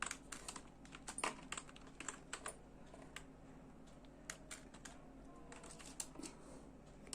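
Steady typing on a computer keyboard, rapid irregular key clicks with occasional louder taps, close and continuous throughout over a low background hum.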